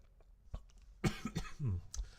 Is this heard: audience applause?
no